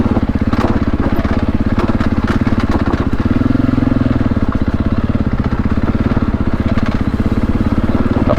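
A lightweight dirt bike of about 100 to 110 kg rides a rough, rocky high-country trail, its engine blatting loud and close with a fast, continuous throb and rapid throttle changes throughout.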